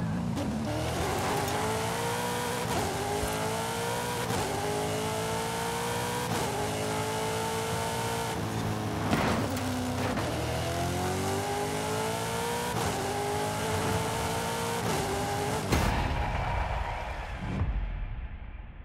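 Car engine in Forza Horizon 5, a slightly understeering car with weak brakes, revving through repeated rising gear pulls with brief shifts between them, loud and continuous, ending with the engine cutting off near the end.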